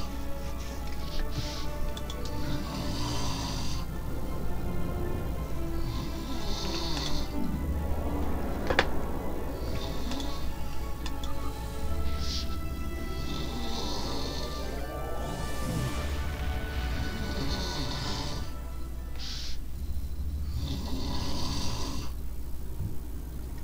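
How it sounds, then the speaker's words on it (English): Loud, steady snoring from someone nearby, its slow breathing rhythm repeating throughout behind the low hum of a computer playing Star Trek Online, with no one talking. "Again, I apologize for the snoring."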